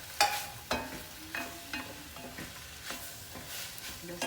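Beef and hot dogs frying in a pan while being stirred, with repeated scraping strokes of the utensil over a steady close sizzle, about eight stirs in four seconds.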